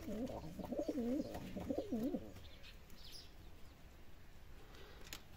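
Large pigeons coo close by in a rhythmic, rolling series of throaty coos for about two seconds, followed by quieter ambient sound with faint chirps.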